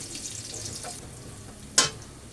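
Garlic sautéing in hot oil, a soft, steady sizzle with a single sharp clink partway through, quiet and without talk.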